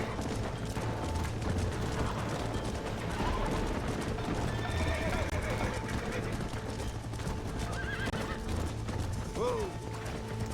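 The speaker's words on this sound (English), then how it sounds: "cows running for the cliff" Cattle stampede toward a cliff in Red Dead Redemption, a steady rumble of galloping hooves with mechanical rattling and a horse's whinny rising near the end.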